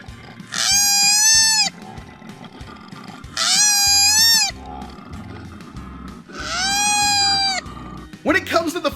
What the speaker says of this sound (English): And koalas sound like this.